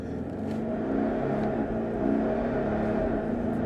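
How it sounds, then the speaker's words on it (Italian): Diesel engine of a Maserati Levante SUV under hard acceleration in sport mode, a steady loud drone of intake and exhaust noise swelling slightly as revs climb, with no talk over it. "Senti che rumore di aspirazione di scarico."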